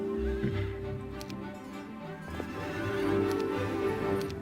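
A horse neighs at the stables in Heroes of Might and Magic III, a loud whinny with clip-clopping hooves and a bright chime, set over steady background game music.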